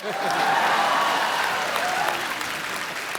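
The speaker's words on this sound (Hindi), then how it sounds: "मेरे कुर्ते के लिए जोरदार तालियां।" Studio audience applauding on a Hindi TV comedy talk show, a loud, full wave of clapping that swells quickly and holds steady before tapering slightly.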